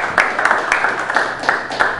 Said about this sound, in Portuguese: com a salva de palmas de vocês